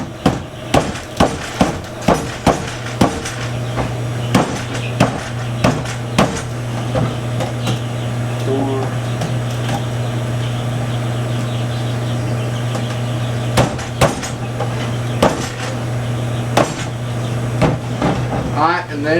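Quail cage frame parts being tapped together during assembly, a series of sharp, close knocks in irregular bursts over a steady low hum, with a voice briefly heard.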